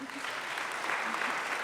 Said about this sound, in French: Je pense que cela mérite des applaudissements